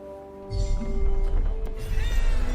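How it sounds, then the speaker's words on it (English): A cat meows in the Forspoken game world, a short drawn-out call heard over a low steady ambient hum, followed by a second brief rising cry near the end. "A cat."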